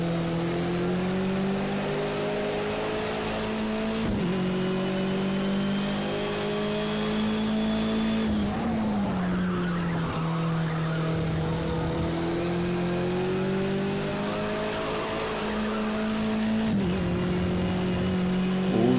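A race car engine in a sim racing game at Brno roars steadily and loudly, rising and falling in pitch as it accelerates, with brief dips at gear shifts. No voices are heard over it.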